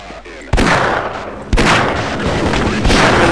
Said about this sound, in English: they're bombing the entire place